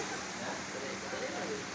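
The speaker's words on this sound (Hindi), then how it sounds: "काफ़ी तेज़ बारिश है" Steady, dense rain pouring down in Bahria Town, Lahore, a constant broadband rush with no break.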